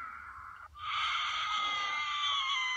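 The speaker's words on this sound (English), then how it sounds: "Listen to that scream." A sustained, loud, high-pitched scream in a forest at night, rising sharply after a brief dip and holding steady as a wavering wail with no talk over it.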